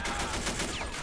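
Rapid gunfire from Men of War: Assault Squad 2 during a D-Day defence, a dense burst of overlapping shots filling a short moment with no voices.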